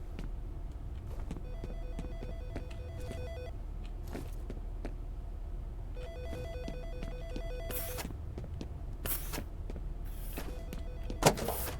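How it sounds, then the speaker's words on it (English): A telephone rings repeatedly in the horror shooter F.E.A.R., its ring tones coming in bursts between about 1 and 3.5 seconds and again from 6 to 8 seconds, moderately loud over a low ambient game drone with a few sharp knocks. "Phone was that ringing?"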